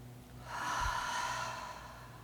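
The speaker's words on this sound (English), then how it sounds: "So let's just breathe in for one." A person draws one long, deep breath in through the nose during a guided breathing exercise, a soft airy rush that swells and fades over about a second and a half in a quiet room.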